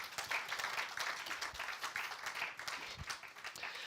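Church congregation applauding and cheering, a dense crowd of quick claps with a few low thumps, moderately loud and continuous.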